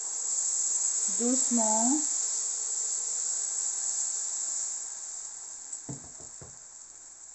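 Crêpe batter poured into a little oil sizzles on a SylverCrest crêpe maker, giving a steady high hiss throughout, with a brief voice speaking early on and a few soft knocks near the end.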